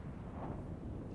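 Battleship main gun firing a single shot in the naval combat game World of Warships: Legends, a sustained low rumbling blast that fills the whole moment at steady loudness with no voices over it.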